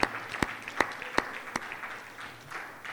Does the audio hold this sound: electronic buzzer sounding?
no